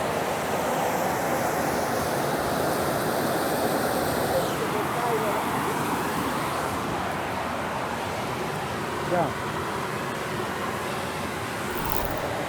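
Pinchollo geysers near Arequipa erupt, a continuous loud roaring rush of spouting water and steam that holds steady throughout, with wind buffeting the microphone.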